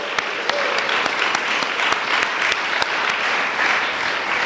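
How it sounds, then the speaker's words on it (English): Steady applause fills the room from an audience welcoming Brian P. of the Smoking Gun Big Book Study Group at a recovery speaker meeting, dense clapping with a few sharper individual claps standing out, no talk over it. "Let's give him a round of applause."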